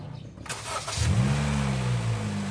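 A Honda Jazz engine cranks briefly and catches after an oil change and flush, settling into a steady, close idle hum that carries on alone with no talk.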